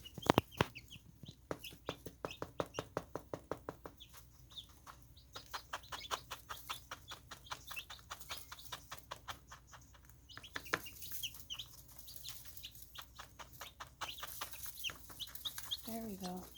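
Chickens in a brooder pen cluck and peep in quick repeated bursts, close and fairly soft, with occasional tapping and a little talk underneath.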